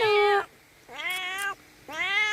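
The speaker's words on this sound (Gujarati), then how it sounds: "ઈ મીંદડાનો અવાજ છે" A cat meows three times, each call loud and close, separated by short pauses.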